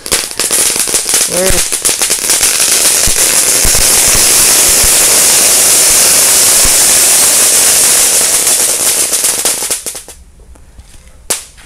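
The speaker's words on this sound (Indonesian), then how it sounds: "semua mercon dinosaurus disumet di dalam wajan" A dense, loud barrage of dinosaur firecrackers set off inside a wok crackles and pops continuously for about ten seconds, then cuts off; a voice exclaims briefly early on.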